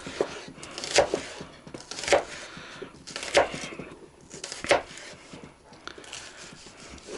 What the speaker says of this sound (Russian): Лук мы нарезать, слава богу, умеем.